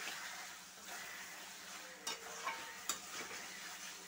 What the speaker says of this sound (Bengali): মাংসটা আমি আবারও আরেকটু নেড়ে দিচ্ছি।